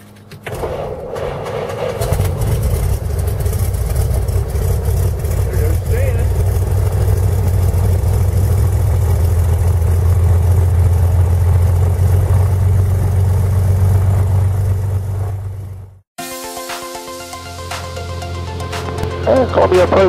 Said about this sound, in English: Clear prop starting.